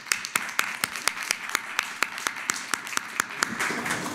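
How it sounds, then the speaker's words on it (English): A library story hour audience claps for Dave Dewar: sparse, distinct individual hand claps in an uneven rhythm, moderately loud and close, tapering into a lighter patter without any talk. "So if we can give him a round of applause."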